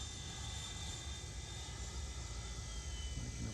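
A Freewing T-45 Goshawk radio-controlled jet with a 90mm electric ducted fan flying overhead, a steady airy whine and rush with a broadband roar, constant in level throughout, heard alone.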